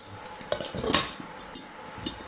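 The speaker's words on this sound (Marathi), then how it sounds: "मी आता त्याच्यावरती झाकण टाकते" A lid goes onto a pan of popping jowar (sorghum): a few metallic clanks and light rattles, then sparse ticks as grains keep popping underneath.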